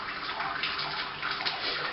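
Water is poured over grain in a Robobrew brewing system, a steady, close, continuous rush with no talk.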